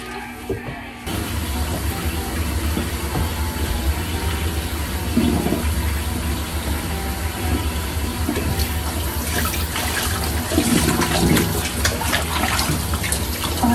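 Baby clothes being rinsed by hand in water, with steady, loud sloshing and splashing that runs continuously throughout, no talking.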